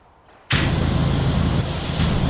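Pressure washer spraying in the game PowerWash Simulator, a steady loud hiss that starts abruptly and runs continuously to the end with no talk over it.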